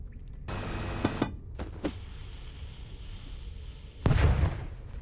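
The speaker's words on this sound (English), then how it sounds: "they're not even big booms. They're very sad little booms" Small, weak explosions blast away rocks in a video game, a couple of short dull pops and a muffled boom over a steady low electronic hum, with a sharper burst near the end.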